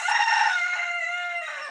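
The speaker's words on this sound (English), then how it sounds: "the cutest thing you will ever hear is a rooster who's just discovered his voice" A young rooster crows once in a single drawn-out, slightly strained call, close and fairly loud, fading at the end, with no voices.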